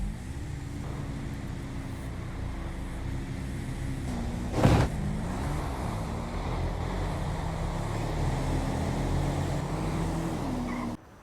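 Street race cars in GTA V launch off the line together, a steady low engine roar under wind-like noise, with one brief sharp burst midway before the sound cuts off.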